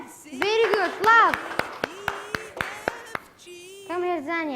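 A classroom of young pupils claps in a quick, even series of about ten sharp claps, framed by a voice at the start and end.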